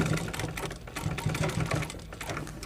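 A sewing machine runs steadily, stitching the hem of a school skirt with a fast, even mechanical chatter at moderate volume, uninterrupted by any speech.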